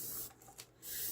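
A spray can hisses over resin in one short burst with a brief gap, set against a steady background hiss.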